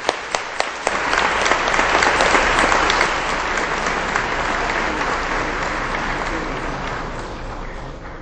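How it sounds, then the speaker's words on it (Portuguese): Sustained applause from a large audience at a formal ceremonial session, loud and steady, starting with a few isolated claps then swelling and slowly tapering. "a quem peço uma calorosa salva de palmas"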